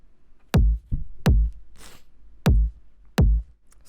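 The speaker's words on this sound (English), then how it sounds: "the first thing there is the kick, which on its own sounds like this." A raw electro electronic kick drum sample plays solo, five punchy, deep thumps with sharp attacks at an uneven spacing, loud and close, with a brief sniff-like breath between hits.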